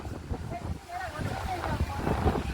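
Wind gusting across open water near a boat, a steady rushing buffeting the microphone throughout, with voices talking over it.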